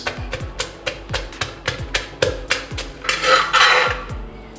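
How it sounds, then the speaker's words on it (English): Pestle pounding chili and garlic in a mortar with steady, sharp, close thuds, about a dozen strikes in a quick rhythm, followed by a brief scraping stir. "There goes in my chili and garlic, and I'll pound this."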